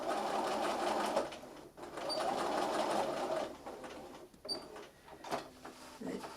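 A sewing machine stitches around the corner of a plush bunny. It runs in a steady whirring burst, stops briefly, then resumes in shorter stop-start runs with small clicks as the needle pivots.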